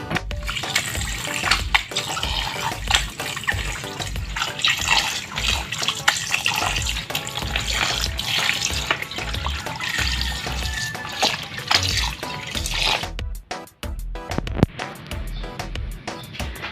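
Tap water runs while duck meat is washed by hand for a caldereta, a loud close splashing stream with occasional clatters, cutting off near the end before a brief drip and knock.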